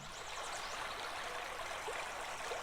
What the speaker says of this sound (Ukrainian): Я вам зараз пропоную послухати дзюрчання струмочка.